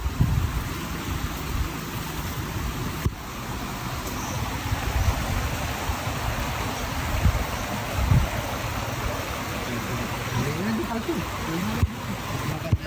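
A stream flows steadily at Hayahay Campsite in Tanay, Marilaque, a continuous broadband wash of running water throughout, with people talking nearby over it.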